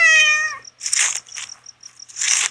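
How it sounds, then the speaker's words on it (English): A cat in the video game Dentures & Demons gives one clear, close meow, followed by a few short, breathy hiss-like bursts. "Yo, kitty."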